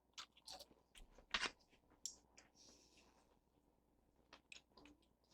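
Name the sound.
crunching bite of German fried potatoes with bacon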